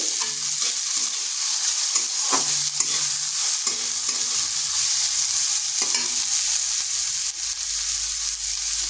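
Onion frying lightly in a pan, with a steady soft sizzle and hiss running throughout, broken by occasional scraping stirs of a spoon against the pan.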